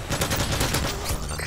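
PP90 submachine gun with extended magazines firing in Modern Warfare 3 multiplayer, a rapid automatic burst of close, loud shots in quick succession lasting the whole moment.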